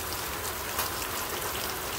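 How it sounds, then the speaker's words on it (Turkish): Rain mixed with hail falling outdoors, a dense, steady hiss of drops striking surfaces, close and continuous with no voices. "Yağmur yağdı, dolu yağdı."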